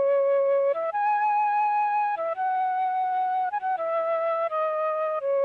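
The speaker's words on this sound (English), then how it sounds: "I use this Mellotron." A slow, sustained Mellotron melody plays alone, smooth held notes stepping between pitches with a soft, slightly reedy tone.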